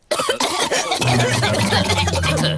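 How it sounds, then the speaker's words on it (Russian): A cartoon character in a Peppa Pig episode coughs in a rapid, harsh burst of several loud, close coughs that run together, with a low hum underneath toward the end. "все взрослые заразились кашлем от Педро"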